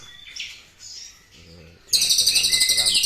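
A caged white-rumped shama (murai batu) sings, soft whistled notes giving way to a loud, rapid run of bright repeated phrases, with low voices murmuring underneath.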